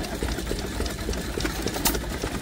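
A Hired Man stationary engine driving a pump at an outdoor vintage rally, running with a quick steady chugging beat, close and fairly loud over faint background bustle.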